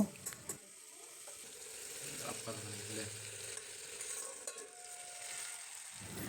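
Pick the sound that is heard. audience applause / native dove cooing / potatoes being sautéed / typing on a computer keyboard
potatoes being sautéed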